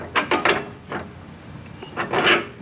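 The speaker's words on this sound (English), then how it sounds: "we'll go ahead and slide over the torsion key removal tool" On a 2011 Ford Ranger, a torsion key removal tool slides into place, making a handful of close metallic scrapes and clicks in short clusters with quiet pauses between.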